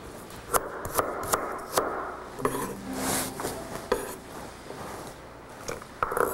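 Carrots being cut into small cubes on a cutting board, with a series of sharp, close knife taps in an irregular rhythm and no talking.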